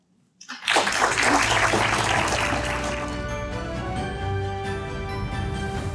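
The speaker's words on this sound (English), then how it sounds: "let's give another round of applause to all of our speakers" After a student speech at a scholarship reception, audience applause bursts in suddenly and holds as a loud, dense wash of clapping, tapering slightly toward the end.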